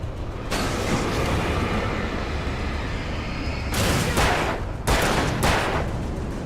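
Gunfire in the game Alan Wake 2, dense continuous shooting with a steady roar, punctuated by a few louder bursts of shots near the end.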